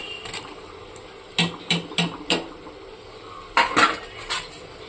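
Fried potatoes go into a boiling egg curry in a pan, with a few sharp metallic clinks and taps of spoon against cookware, spaced irregularly, close and fairly quiet, with no voices.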